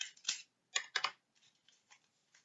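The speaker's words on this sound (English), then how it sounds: "I'm going to cut down the crease" Scissors snip through folded paper along the crease for a bear craft, a few close crisp cuts in quick bursts followed by softer, fainter snips.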